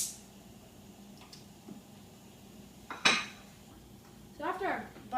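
Butter going into a pan on a quiet kitchen stove, with a few sharp metallic clatters of the pan and utensils, one near the middle and a cluster near the end, over faint background hum.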